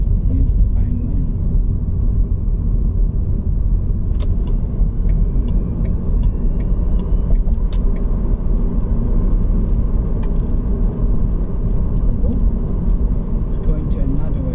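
Black car driving past on a Shenzhen street, a steady low road rumble of engine and tyres held throughout, with voices faintly present beneath the traffic noise.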